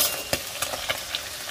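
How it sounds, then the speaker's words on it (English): Ground cumin and crushed black peppercorn sautéing in a hot pan for Tex-Mex carne guisada, a close, dense sizzle with a few light stirring scrapes and no talk. "my ground cumin and black peppercorn mix. Give that a saute here."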